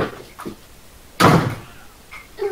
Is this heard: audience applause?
no